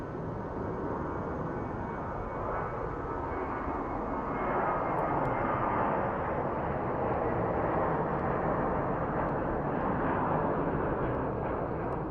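A loud, steady jet engine roar fills the whole clip at Phoenix Sky Harbor International Airport at night, swelling slightly midway as the aircraft powers up for takeoff, with no voices.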